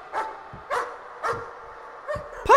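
A dog barks in a VR horror video game, giving a run of four or five evenly spaced, mid-loud barks with a brief higher yelp at the end.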